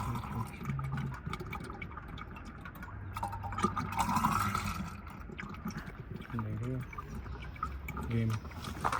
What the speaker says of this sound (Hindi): ये ऐसे पानी भरते हैं, अभी दिखाते हैं।